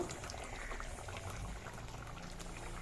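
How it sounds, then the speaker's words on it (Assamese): Chicken curry with sesame seeds boils steadily in a pot on a gas stove, a dense, continuous bubbling with a low rumble that stays at an even level throughout, close to the listener, with no talk. "দেখিছেনে কিমান ধুনীয়াকৈ উতল আহিছে?"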